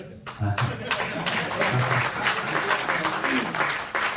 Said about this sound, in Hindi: ताली बजाइए या मत बजाइए वो अलग बात है